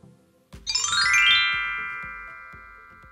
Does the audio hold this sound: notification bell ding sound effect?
yes